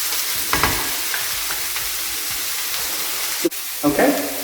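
Peppers and onions sizzling in a hot pan while being tossed, a steady soft frying hiss with a few louder clattering bursts of vegetables and pan movement near the end.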